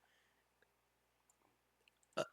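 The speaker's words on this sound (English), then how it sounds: "Sorry for burping." A short, sharp burp near the end of an otherwise quiet stretch, with faint clicks and small mouth noises before it.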